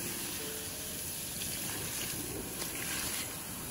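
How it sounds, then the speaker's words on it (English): A bucket of water dumped onto a campfire to put it out, a continuous watery gush and sizzling wash that stays close and fairly loud without pause. "Just grab this bucket of water and put out this fire."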